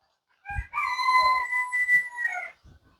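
A single rooster crows clearly, a long drawn-out cock-a-doodle-doo heard close and alone.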